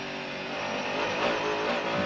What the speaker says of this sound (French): La Mercedes qui s'engage maintenant dans la ligne droite des Hunaudières